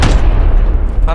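A grenade blast in the battle royale game PUBG, a loud, dense boom that fills the whole moment and rumbles on heavily before a voice cuts in at the end.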